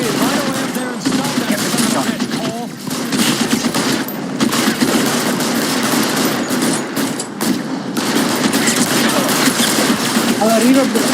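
Sustained automatic gunfire in the video game L.A. Noire, dense overlapping shots in a continuous battle, loud and close, with voices talking over it at times.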